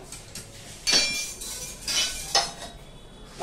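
Metal utensils clink and scrape a few times in a kadhai as jaggery powder is added, with sharp knocks over a quiet background.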